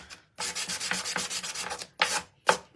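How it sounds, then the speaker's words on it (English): Close, loud sanding of the edges of a wooden cutout: a continuous rasping rub for about a second and a half, then two short separate strokes, with no talking. "I'm going to sand the edges."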